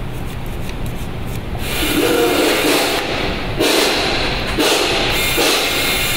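Steel wool scrubs a corroded car battery post in close, repeated rasping strokes, with several louder rubbing bursts and dull thumps and no talking.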